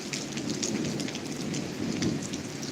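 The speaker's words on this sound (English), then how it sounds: "A lot of that thunder is still coming from over there." A thunderstorm with steady rain pattering on surfaces and low rumbles of thunder, a dense, continuous hiss of rain heard outdoors at moderate loudness with no voices.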